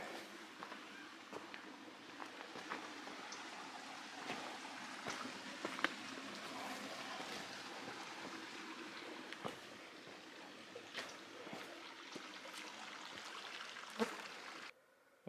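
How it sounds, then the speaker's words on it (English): Pine Creek flowing on the Arizona Trail, a steady close rush and trickle of water running alone with occasional faint knocks, no voices. "Here's Pine Creek."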